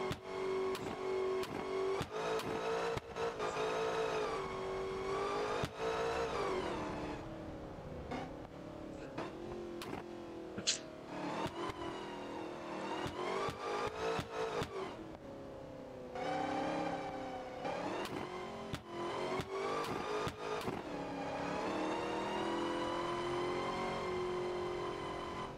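A 2023 BMW X6M in BeamNG.Drive revving hard with its engine starved of oil, the engine climbing and falling through repeated surges and gear changes over about twenty-five seconds, loud and continuous.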